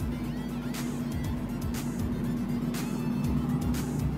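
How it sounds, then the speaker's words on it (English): A Ferrari Enzo sports car drives on a road in the morning, its engine a steady, moderately distant drone heard from a following vehicle, with no talking. "I'm really behind a Ferrari Enzo this morning."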